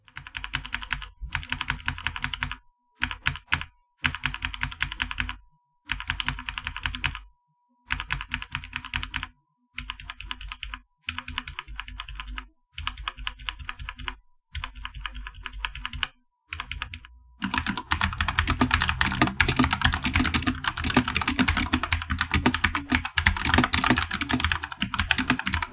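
Typing bursts on a Corsair K70 RGB Rapidfire mechanical keyboard with Cherry MX Speed switches, rapid close clacking in short runs separated by brief pauses, ending in a denser, louder continuous flurry of keystrokes.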